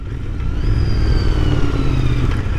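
A Royal Enfield Continental GT 650 motorcycle on the move, its engine thrumming loud and steady with a low throbbing exhaust under a rushing wind noise and a faint rising whine.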